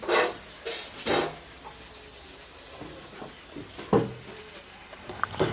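Coriander seeds are dry-roasted in a pan over a wood-fired stove, giving intermittent scraping and stirring clatter with soft crackling between strokes.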